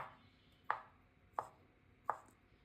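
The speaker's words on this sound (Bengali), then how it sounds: "এভাবে কুচি কুচি করে নেবেন" Knife chopping boiled eggs finely for a boiled-egg cube chop: three sharp, separate blade strikes on a board, spaced about two-thirds of a second apart, close and clear over a quiet room.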